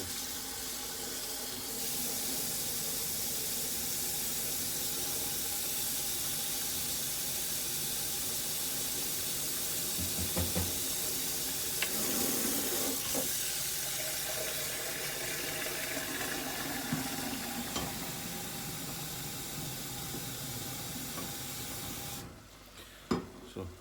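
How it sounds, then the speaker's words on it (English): Dishes being washed in a kitchen sink under a running tap while salsa is made, a steady rushing hiss of water with intermittent clinks and splashes continuing for about twenty seconds, then cutting off near the end. "as always, I do the dishes while I get going"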